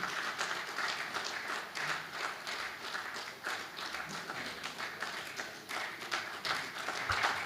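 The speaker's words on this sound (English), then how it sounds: "Let's give him a round of applause if we are approaching the podium." An audience gathered for a men's parliament session applauds for a speaker heading to the podium, a dense and sustained round of clapping that carries on at an even level for the whole stretch.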